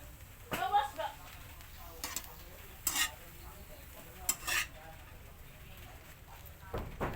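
Edible fern fronds (pako) being stirred in a pan with a quiet sizzle, with scattered scrapes and clinks of a utensil against the pan at close range and low level.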